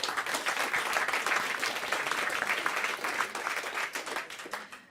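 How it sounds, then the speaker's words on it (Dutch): An audience at a live evening event applauds a poet, dense sustained clapping from many hands, steady and fairly loud throughout. "Geef haar een groot applaus."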